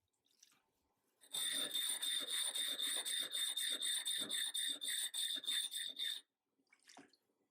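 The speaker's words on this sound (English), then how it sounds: "hold the blade perpendicular to the whetstone and sharpen the blade until there are no more chips along the" A Japanese kanna plane blade is rubbed on a coarse-grit whetstone in fast, steady back-and-forth strokes, a close, gritty rasping that runs for about five seconds before stopping.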